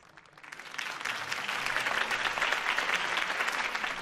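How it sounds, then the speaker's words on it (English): Crowd applause after a campaign speech by Harvey Dent in a Batman video game, rising quickly from a soft start into sustained, dense clapping that holds steady and loud. "If only Mr. Wayne, my campaign's largest backer, could have heard that applause"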